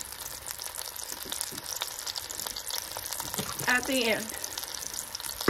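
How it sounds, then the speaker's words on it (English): Celery sautéing in a pan for chicken and dumpling soup, a low steady sizzle with light stirring and clatter, and a short spoken remark near the end. "We'll get these sauteing."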